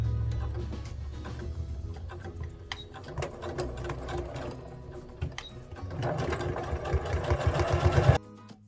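A sewing machine stitches steadily around the edges of a fabric activity-quilt cover with contrasting thread, its motor whirring in continuous runs with short pauses and speeding up toward the end before stopping.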